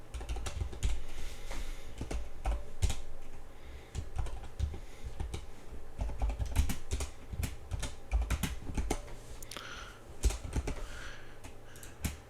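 Java code is typed on a computer keyboard: a close, continuous run of uneven key clicks and heavier thumps, like a space bar, with no voices.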